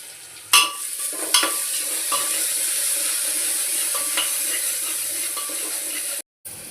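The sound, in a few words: onions frying in a pan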